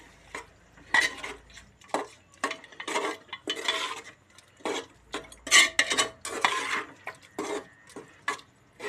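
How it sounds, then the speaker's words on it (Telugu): Metal spoon scraping and clinking against a pot while yogurt is mixed into chicken pulao, close and fairly loud, in repeated irregular strokes with brief pauses between them. "పెరుగు వేసుకొని మంచిగా మిక్స్ చేసుకోవాలి."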